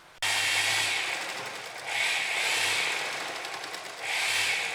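A sewing machine stitches overlapping elastic, its motor whirring loudly and close in three sustained bursts separated by brief easing pauses.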